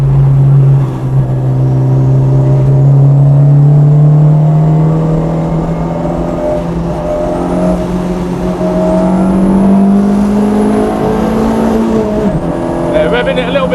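A turbocharged 321bhp hybrid-turbo 1.8T VW Golf Mk3 GTI pulls hard and loud on a track with a rising drone as it accelerates, continuous throughout, with a voice talking over it.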